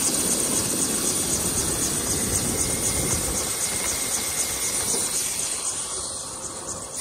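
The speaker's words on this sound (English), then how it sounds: "there's a freaking helicopter behind me" Helicopter flying nearby behind a boardwalk near Rockaway Beach, a steady rotor whir and engine drone that holds level before fading slightly toward the end, with no talking.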